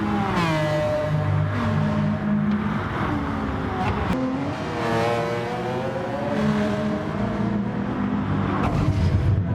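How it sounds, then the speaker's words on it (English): Race cars including a Porsche accelerate on track in a sim racing manufacturer series, whining engines rising in pitch through gear changes, repeated surges with cars passing, loud and continuous. "Ely in the Porsche broke way too late there"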